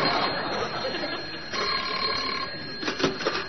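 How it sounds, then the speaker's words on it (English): An old-fashioned telephone bell rings in a Home Guard office, with short, bright bursts of ringing toward the end over a low background murmur. "If that phone was to ring right now"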